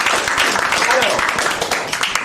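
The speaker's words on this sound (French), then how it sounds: "On l'applaudit, Molière." A theatre audience applauds during a French stage play: dense, steady clapping fills the whole stretch, with voices mixed in underneath.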